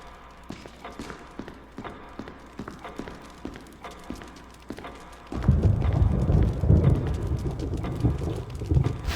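Thunder rumbles in Resident Evil HD Remastered, a deep rolling storm swelling in over steady rain and dense crackling, loud and sustained after a quieter stretch of pattering.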